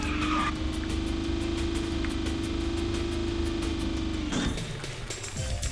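A kart in the video game KartRider drives with a steady whining engine tone that holds for about four seconds, then cuts off abruptly into game sound effects.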